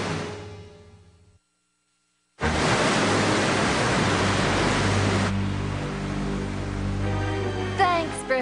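Cartoon flood of roughly 10,000 gallons of water crashing in after a brief silence, a loud, broad, sustained rush that eases slightly toward the end, with a few squeaky effects at the close.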